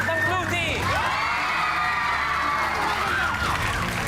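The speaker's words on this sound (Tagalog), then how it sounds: "Palakpak ng blue team!" A blue team of children at a game-show challenge erupts in loud cheering and whooping, a sustained crowd of young voices with rising shouts, close and energetic for the full stretch.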